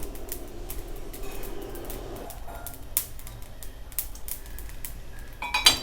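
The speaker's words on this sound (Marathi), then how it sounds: "आपली मोहरी सुद्धा आता कढईत तडतडू लागलेली आहे" Faint, sporadic sharp pops and crackles of mustard seeds dry-roasting in a kadhai, with an occasional light metallic clink.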